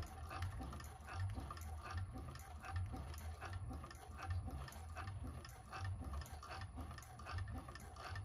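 A 1341 cylinder arm sewing machine stitches a bag dart, back-stitching, with a steady low rhythmic mechanical whir and repeated stitch pulses running throughout, fairly close and continuous.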